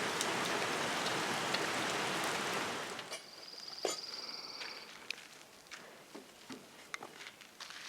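Rain falls outdoors on a property being clad in Douglas fir and cedar siding, first as a dense steady hiss. It then thins to scattered nearby drips and patters, with a brief high tone partway through.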